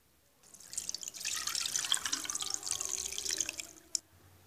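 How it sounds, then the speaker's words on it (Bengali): Coconut milk strained through a sieve into a container, a steady close liquid pour and trickle of about four seconds with a few drips at the end. "এবার আমি একইভাবে দুধটাকে ছেঁকে নিব।"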